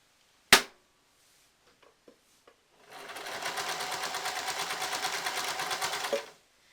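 A sewing machine stitches a pair of trousers being mended, running steadily for a few seconds with a fast, even mechanical chatter after a sharp click and a few small handling taps.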